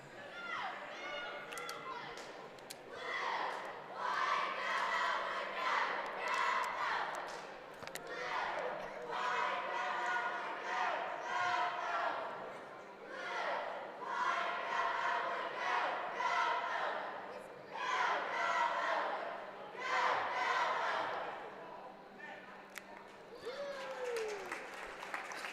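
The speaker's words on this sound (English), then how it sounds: "let the Ellwood City cheerleaders cheer on the Wolverines" Ellwood City cheerleaders chant loudly in rhythmic, repeated bursts during a high school boys basketball game against Sto-Rox, their shouts echoing through the gym over crowd noise, with pauses between each chant.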